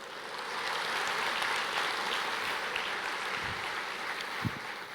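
A church congregation claps together in a sustained, fairly distant wash of applause, faint and even throughout with a couple of low thumps near the end.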